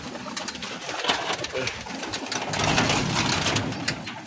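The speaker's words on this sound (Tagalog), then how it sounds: "Eto mga kalapatids, mga hen naman yung mga nakakulong dito." Pigeons in a loft, with hens kept caged, coo softly and continuously over a busy, rustling background, their low murmuring calls steady throughout and not very loud.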